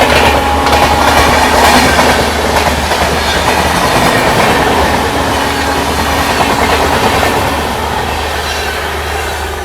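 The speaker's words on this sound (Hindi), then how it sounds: "Mau Anand Vihar superfast parallel overtake मार के चली गई इधर पे" A Mau Anand Vihar Superfast train runs on the parallel track beside a moving Kanpur Shatabdi Express, a loud, steady rumble of wheels and clickety-clack that stays close and continuous throughout, with no talk.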